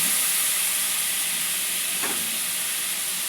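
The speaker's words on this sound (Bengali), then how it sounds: "সামান্য জল দিয়ে মশলাটা একটু কষে নেব।" Ginger paste and spice masala frying in a pan with a splash of water, giving a steady, even sizzle and hiss throughout, with one brief louder crackle in the middle.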